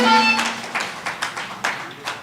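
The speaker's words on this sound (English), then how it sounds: "Let's give it a round of applause to Alderman Puran Mongaroo." A handful of scattered, separate claps from a small crowd at an outdoor community meeting in Cunupia, six or seven sharp slaps spaced unevenly after a brief tone, with no talking.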